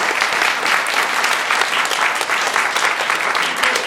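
A conference audience gives a loud, dense round of applause for a speaker, with steady clapping and no talk over it.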